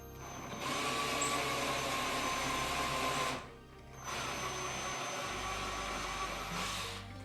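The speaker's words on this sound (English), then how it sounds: "We have our holes drilled, so let's set our screws here." A power drill whines at a constant pitch in two bursts of roughly three seconds each, with a short gap between them, while boring holes to mount a shower curtain rod. It is close and loud, with no talking.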